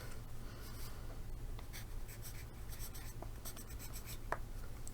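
Pencil scratching across paper in a close, quiet ASMR setting, a continuous soft graphite rasp broken by short strokes and taps, with no speech over it.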